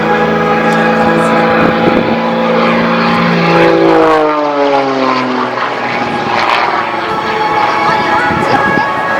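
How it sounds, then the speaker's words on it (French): A small propeller aerobatic plane from the French Air and Space Force display team flies at the Verdun air show, its engine drone rising and falling in pitch as it passes and banks, loud and continuous throughout. "l'avion est tout petit, hein, l'avion"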